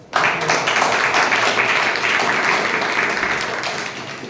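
A Toastmasters club meeting audience gives a big round of applause to welcome its newest member, a loud, dense burst of clapping that holds steady for about four seconds, with no talk.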